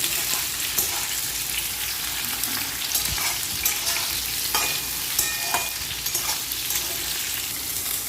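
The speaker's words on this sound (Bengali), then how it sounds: "কালো জিরে আমি আর একটু নেড়ে নিচ্ছি" Black cumin (nigella seeds) frying in a pan, stirred with a spoon: a constant close sizzle broken by several sharp scrapes and clinks of utensil against metal at an irregular pace.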